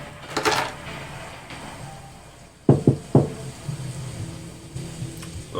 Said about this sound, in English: Wolf's gonna knock on the door.